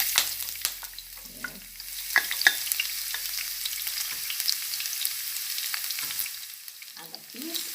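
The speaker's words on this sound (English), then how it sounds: "turn down the stove a little bit now that it's starting a little frying action" Garlic frying in a pot for a Jamaican mackerel rundown, with a steady close crackling sizzle and occasional stirring scrapes and clinks throughout.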